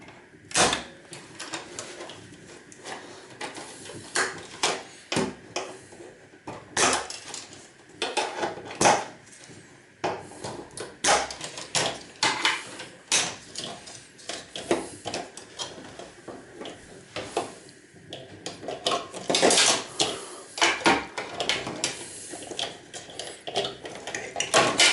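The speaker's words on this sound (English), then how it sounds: "These are good thick cables by the feel of the snips going through them." Metal snips cutting through thick insulated copper cables while stripping a server UPS, giving repeated sharp clicks and crunchy snaps at an irregular pace, close up, with metallic clatter of parts and no talking.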